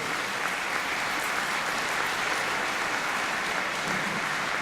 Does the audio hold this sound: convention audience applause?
yes